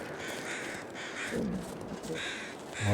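Crows caw in the wintry wilderness of the survival game The Long Dark, harsh calls repeating over a steady wind-like background, fairly distant, with no talking.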